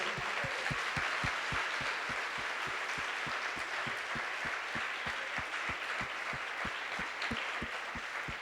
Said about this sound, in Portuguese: Você pode aplaudir Jesus aí?